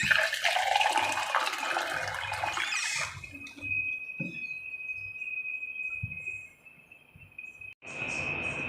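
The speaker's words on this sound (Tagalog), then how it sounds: "Tapos maglalagay tayo ng tubig." Water poured from a container into pancake batter in a home kitchen gives a bright, splashing rush for about three seconds, then drops to a quieter trickle with small clinks and a thin sustained hum.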